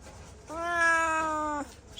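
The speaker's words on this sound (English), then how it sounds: "There's our crazy cat." A cat gives one clear, drawn-out meow of about a second, fairly close, between stretches of quiet room tone.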